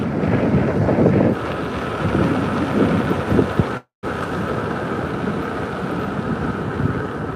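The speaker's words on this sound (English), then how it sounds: "It's a pretty strong wind out tonight coming against me." Strong night wind buffets the microphone in a steady, loud low rumble lasting throughout, broken by a brief dropout midway.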